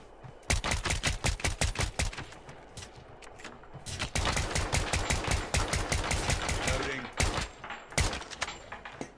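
Rapid SKS rifle fire in the Call of Duty Mobile battle royale cracks out in fast, loud bursts, with near-continuous volleys broken by short pauses.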